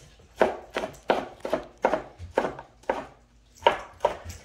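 A knife chops red pepper on a cutting board in steady, evenly spaced strokes, about nine close crisp thuds with a short pause near the end, with no talking.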